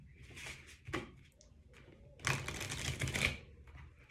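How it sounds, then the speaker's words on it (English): Oracle advice cards are drawn and shuffled from a Starseed Oracle deck, soft close papery flicks and slaps in short bursts, with a louder flurry of card riffling toward the end. "we'll just pull a couple of advice cards out for the rest of 2020."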